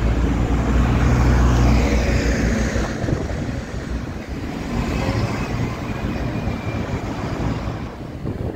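A Go North East bus passes on Grainger Street in Newcastle, its engine roar and rushing tyre noise loud at first, then easing into a steady rumble as it moves off.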